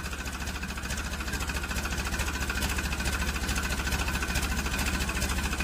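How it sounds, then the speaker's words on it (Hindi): Farmtrac 45 tractor engine pulling another tractor stuck in muddy water, a steady mid-pitched diesel chug with an even rapid knocking rhythm, close and continuous, no voices. "ट्रैक्टर फंसा हुआ है पानी में, उसको निकालते हुए फार्म ट्रक साइड T20"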